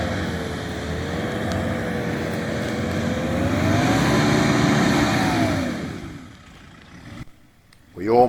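A 4WD's engine revs hard and steady as it tries to reverse out of a bog on tyres let down into the teens, the loud drone rising and falling before it drops away, then a short burst of noise at the end.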